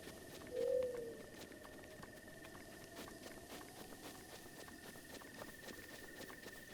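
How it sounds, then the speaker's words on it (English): Birds call in the open world of Zelda Breath of the Wild, with one brief, close cooing note early on over a faint, steady ambient background that carries on quietly afterwards. "The sounds in this game are so cool. Like the different bird calls and stuff that they have."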